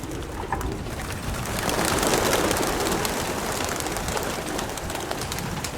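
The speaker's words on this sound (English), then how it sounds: "A lot of birds." Racing pigeons cooing at a fancier's loft in Florida, a steady murmur of many birds under constant outdoor noise.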